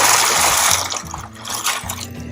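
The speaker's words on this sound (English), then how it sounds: "I'm going to add 1 pound of pasta into the boiling water." A pound of dry pasta goes into a pot of boiling water, giving a continuous rushing, bubbling roar with some light rattling clatter.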